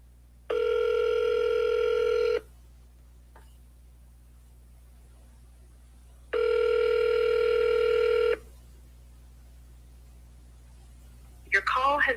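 A telephone call rings out twice, each long electronic ring burst lasting about two seconds and separated by quiet line hiss, followed by a brief start of a voice at the end.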